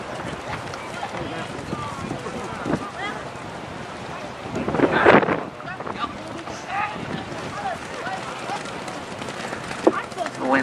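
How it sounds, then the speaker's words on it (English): Wind blows outdoors at a sporting event, a steady gusty roar with microphone buffeting that swells strongly around the middle, with voices in the background. "The wind blows"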